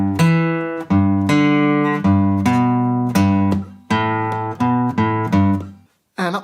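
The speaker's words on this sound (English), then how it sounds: "So if we put the whole riff together, it sounds like this." An electric guitar plays the repeating riff from a song, ringing chords and single notes struck in a steady rhythm at close range, ending with a short pause and a final note.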